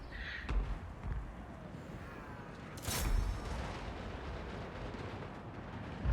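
Artillery firing in the Total War: Warhammer II battle game, with several booming shots, the loudest near the middle, over a continuous rumbling battle din.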